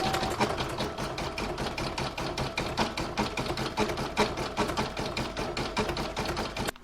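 An embroidery machine stitches a pale grey outline around the white of a snowman coaster design with a rapid, even rattling tap. It sounds close and steady throughout, with no talking.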